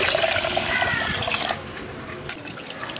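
Raw white rice, a kilo of it, being rinsed by hand in a pot of water for Tamil adhirasam; steady close sloshing and swirling of water through the grains, fading a little and steadying toward the end, with no talk.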